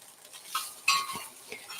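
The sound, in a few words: ramen noodle stir fry in Lodge cast iron wok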